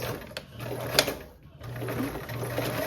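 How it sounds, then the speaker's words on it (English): A sewing machine stitches a seam with a 1/8 inch allowance, its steady mechanical whir running in short stretches, pausing briefly between runs, with light clicks and background music underneath. "we're going to sew all the way down to the bottom. And we'll walk that through as I'm stitching"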